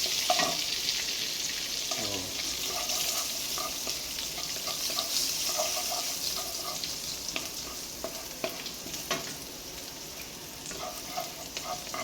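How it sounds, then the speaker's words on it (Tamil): Ginger sautés in hot oil until golden brown, a steady close sizzle and crackle with occasional stirring scrapes, no voices over it. "இஞ்சி வந்து கோல்டன் ப்ரௌன் ஆகணும், அது வரைக்கும் நல்லா வதக்குங்க"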